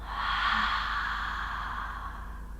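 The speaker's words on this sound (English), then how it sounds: "The big exhale." A big, drawn-out exhale during yoga breathing, a breathy rush of air that starts strong and tapers off over a couple of seconds, close and alone.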